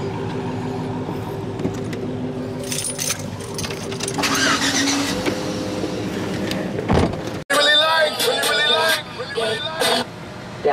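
A customized 2022 Jeep Wrangler JL engine cranks over and catches partway through, then idles and revs with a throaty exhaust, while people talk close by before and around it.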